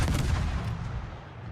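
Torpedoes launch from a warship in World of Warships, making a heavy, booming discharge that rumbles and then fades over about a second and a half, with no voices.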